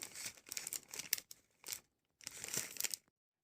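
Glossy plastic packaging of imported instant noodles crinkles and rustles in several short bursts, close and fairly crisp, with brief pauses between handlings.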